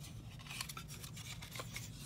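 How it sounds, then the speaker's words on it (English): A flat file working the front locking block tab area of a Glock-style pistol frame, producing a faint, continuous, fine rasping over a low hum. "I like to use a flat file for where the front locking block tabs were"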